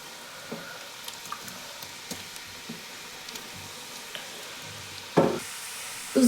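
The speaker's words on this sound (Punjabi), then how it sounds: "ਹੁਣ ਆਪਾਂ ਇਹਨਾਂ ਨੂੰ ਤੇਲ ਦੇ ਵਿੱਚ ਪਾ ਦਾਂਗੇ" Namakpare dough pieces dropped into hot oil, with a soft steady sizzle, faint knocks and clinks, and a louder burst of frying toward the end.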